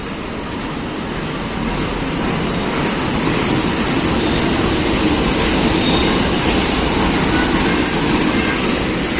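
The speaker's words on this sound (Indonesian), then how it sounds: "Itu adalah kereta api Sri Tanjung dengan tujuan akhir ke stasiun Ketapang dari stasiun Lempuyangan" The Sri Tanjung passenger train, hauled by a locomotive between Lempuyangan and Ketapang, rumbles past loud and close with a steady roar of wheels on rails, rhythmic clicks and faint squeal, no voices over it.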